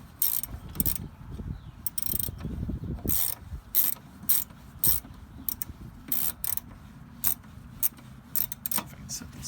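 Brake caliper bolts are loosened with a ratchet, rapid clicking pawl sounds and metallic tool clinks coming in short, irregular bursts close by, with a quiet voice now and then.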